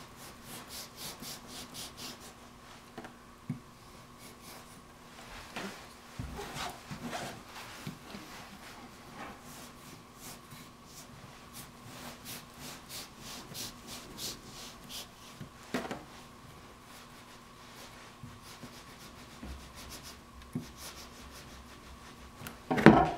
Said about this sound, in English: You want to keep your knife as close to parallel as you can because you don't want to slice into your